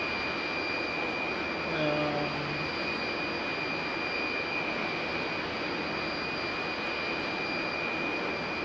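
A MiG jet engine runs on a ground test near 11,800 RPM, giving a steady loud roaring whine with a sharp high tone, close and continuous, with a brief faint voice early on.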